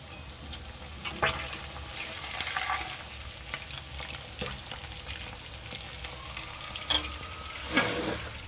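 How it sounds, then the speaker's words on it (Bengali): Chicken pieces for chilli chicken fry in hot oil with a steady sizzle, punctuated by sharp spatters and a few stirring scrapes, close and unaccompanied by talk. "এই চিকেনটা লাল লাল ভাজা হয়ে গেছে"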